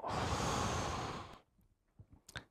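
One long, forceful breath is drawn and released as a loud airy rush, then fades into quiet with small rustles and soft mouth sounds.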